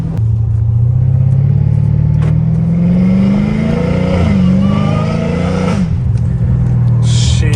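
A loud catless exhaust on a Dodge Challenger Hellcat Redeye roars and burbles close by while downshifting through low gears, engine pitch rising and dropping sharply, with crackles between shifts.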